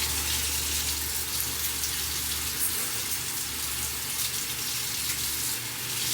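Water gushes steadily from a kitchen faucet during tomato canning, a loud continuous rush with no break.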